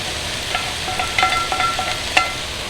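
Bacon and beef sizzle in a pot as the base of an Irish beef stew, a steady soft frying hiss with a few brief clinks and stirring scrapes, close and moderate in level with no talk.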